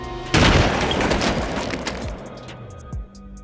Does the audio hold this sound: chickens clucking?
no